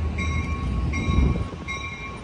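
A doubleheader Amtrak Capitol Corridor passenger train rumbles along nearby at Emeryville Station with a low, steady roar and repeated high squealing tones from the wheels or brakes.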